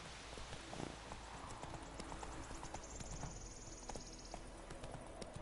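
Hooves of Roach, a horse in The Witcher 3, clip-clop in a steady galloping rhythm, faint and continuous with a soft background hiss.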